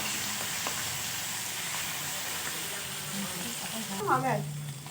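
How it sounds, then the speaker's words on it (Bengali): Fish fat sizzles in hot oil in a home kitchen, a soft steady frying hiss with a brief louder bubbling burst near the end. "তেলটা আমার গরম হয়ে গেছে, মাছের তেল দিয়ে দিয়েছি"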